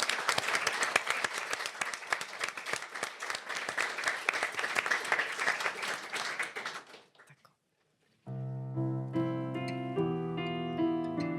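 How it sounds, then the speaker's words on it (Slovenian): Audience at a talk applauding warmly, a dense, steady wash of clapping for about seven seconds that stops abruptly, followed after a brief silence by music. "zdaj imamo en aplavz"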